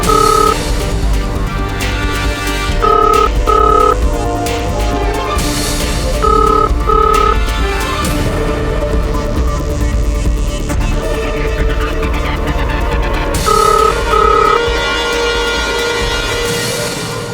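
A telephone rings unanswered in repeated short double bursts against a dramatic background music bed, with no one picking up.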